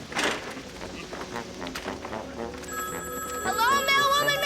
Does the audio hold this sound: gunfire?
no